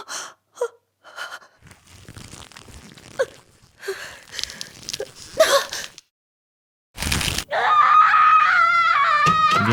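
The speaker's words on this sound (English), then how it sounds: "what the hell is that scream?" Scattered gasps and wheezing breaths lead into a sudden burst of harsh noise, then a long piercing, wavering scream that rings on loudly to the end of the clip.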